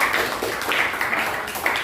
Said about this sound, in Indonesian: tepuk tangan buat Mbak Kaila